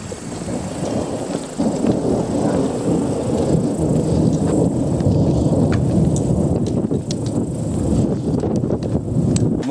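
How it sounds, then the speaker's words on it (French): Thunder from an approaching storm in the Dolomites rumbles loud and close, a sustained roll swelling after the first seconds with rain-like hiss and crackle spread across the whole stretch. "on va aller au devant de l'orage"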